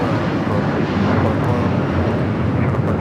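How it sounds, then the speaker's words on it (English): United Airlines Boeing 757-300 taking off from Los Angeles airport, a continuous loud jet roar with dense low rumble and broadband hiss, steady throughout, with faint voices mixed beneath. "This is United Airlines 1069 taking off to Chicago on the 757-300."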